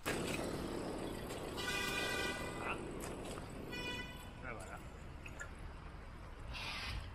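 Car horns toot in city boulevard traffic near the ring road, several short honks at a distance under faint road rumble while a person talks over them.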